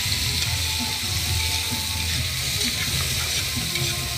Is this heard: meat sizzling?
yes